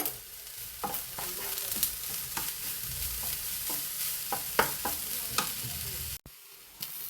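Grated coconut fries in melting sugar in a pan, a soft steady sizzle broken by repeated close scrapes and taps of a spoon stirring, with a brief cut near the end.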